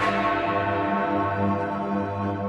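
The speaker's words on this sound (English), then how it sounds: "The small crack is what gives it the unique sound you hear." A large cracked clock tower bell rings with a long, sustained metallic hum and a slightly harsh, buzzing overtone as the tone rings on steadily.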